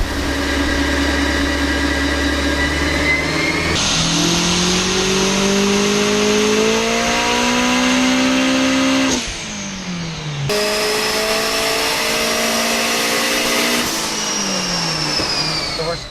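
A turbocharged Honda S2000 engine revs hard on a dyno in third gear, loud and close, climbing in pitch through two long sustained pulls with a brief drop between them as the engine comes off and back on.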